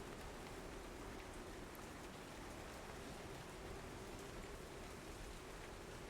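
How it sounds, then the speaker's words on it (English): Rain falls steadily in a soft, even hiss of countless drops on surfaces, constant and fairly faint throughout with no voices. "Listen to the rain ambiance."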